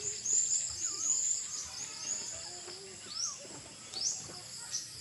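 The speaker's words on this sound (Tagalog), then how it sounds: "Ito sila mga birds." Birds chirp and whistle steadily at moderate volume over a low background hum, with high repeated calls and some lower warbling notes.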